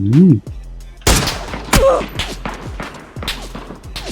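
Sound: gunfire in the video game PUBG

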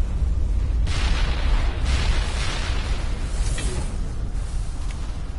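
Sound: explosion in video game Mass Effect Legendary Edition

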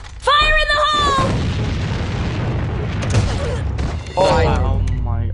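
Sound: grenade explosion in video game AVA

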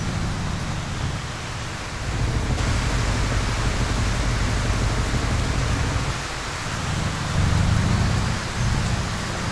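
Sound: rain in Euro Truck Simulator 2 video game

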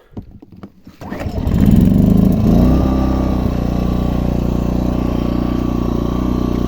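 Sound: inverter generator engine starting and running

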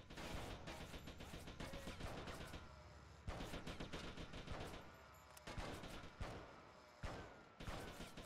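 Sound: gunshots at a barrel in GTA Vice City video game

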